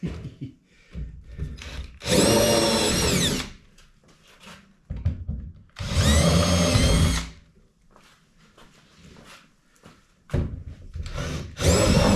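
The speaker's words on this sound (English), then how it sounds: "holes are marked. We're gonna drill" A power drill whirs loudly in three separate bursts, each a second or so long, drilling holes to mount an ATV storage box, separated by quieter handling noises.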